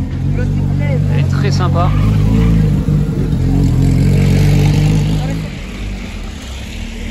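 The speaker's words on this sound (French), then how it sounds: "Petite GT3 RS 992 qui arrive," A Porsche 911 GT3 RS of the 992 generation arriving on a Monaco street, its engine revving loudly and close under someone speaking French, then fading as it moves off.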